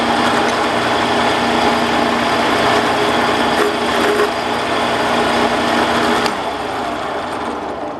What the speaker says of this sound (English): we're going to drill in with a Q size drill